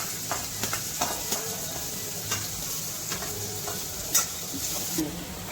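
Chopped onion, garlic and green chili frying in a pan, a steady close sizzle punctuated by repeated stirring scrapes and occasional spoon clinks against the metal.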